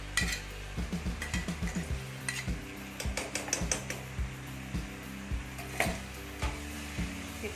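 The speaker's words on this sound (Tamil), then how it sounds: "நல்லா கிளறி விட்டுக்கலாம்" A spoon stirs a bottle gourd stir-fry with grated coconut in a hot pan, with repeated quick scrapes and taps against the metal over a constant sizzle, close up and without talk.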